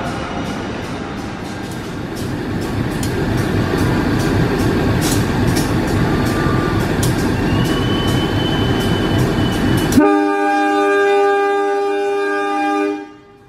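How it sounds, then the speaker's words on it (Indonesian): A Serayu passenger train hauled by a CC 203 locomotive pulls out of Jatinegara station in Jakarta, loud rolling rumble and clatter for ten seconds, then a long, steady multi-tone horn blast sounds close by before cutting off. "Kereta api Serayu diberangkatkan kembali dari jalur 7 menuju tujuan akhir stasiun Jakarta Pasar Senen"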